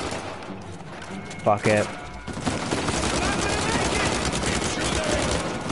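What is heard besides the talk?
blind fire gunshots in Uncharted video game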